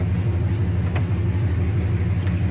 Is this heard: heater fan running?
yes